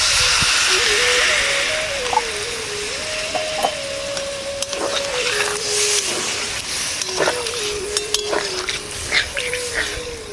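Water poured onto spiced yam and potatoes frying in a pan sets off a loud hiss that eases into steady bubbling, with occasional utensil clinks and a faint tonal whine.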